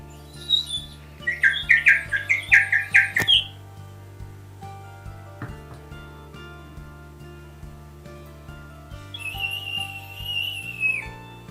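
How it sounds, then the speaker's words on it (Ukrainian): A shrill, warbling whistle from a bird-shaped clay toy trills in two bursts, with a quieter stretch between, over a low steady hum. "З глини також ліпили свищиків. Вони були у вигляді пташок."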